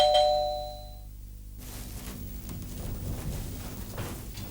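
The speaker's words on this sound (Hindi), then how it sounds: "ये जरा घंटी बजाइए। अरे बजाइए ना।" A doorbell chimes once at the start, its bright tone ringing out and fading, followed by soft rustling and shuffling nearby.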